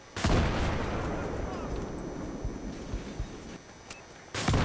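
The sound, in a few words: C4 explosion in the video game Battlefield 3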